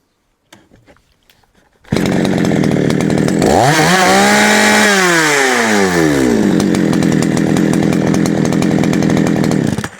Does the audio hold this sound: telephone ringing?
no